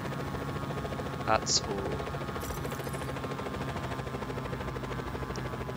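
A helicopter in the video game Just Cause 4 whirs with a steady rotor drone as it comes in to land, staying constant under a player's brief speech.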